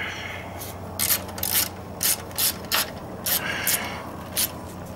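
A ratchet with an extension tightens a bolt on a Conely's USA T-Sport motorcycle fairing, giving several short, close, bright clicking bursts in an uneven rhythm over a quiet background.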